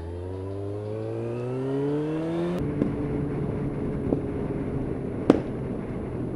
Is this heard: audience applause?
no